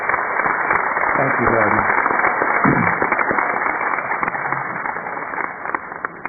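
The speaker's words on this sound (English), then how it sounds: "Will you please join me in giving a round of applause to all of these individuals?" An audience at a university commencement ceremony applauds in a broad, steady wash of clapping, loud and continuous throughout, with a speaker's voice briefly heard over it.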